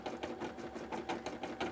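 A sewing machine, stitching beadwork for a cosplay piece, runs steadily at close range, its rapid, even needle strokes repeating in a tight mechanical rhythm at low volume.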